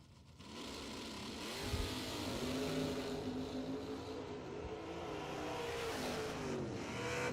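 Drag racing launch of a 1978 Fairmont and a Firebird at a bracket racing event, engines roaring loud and sustained from near the start, holding a steady harsh drone throughout with no talk.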